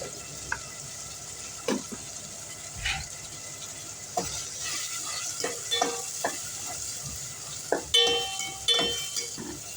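Tomatoes sauté for a fish curry in a pan, giving off a steady sizzle with scattered scrapes and clinks from stirring, and no voices are heard.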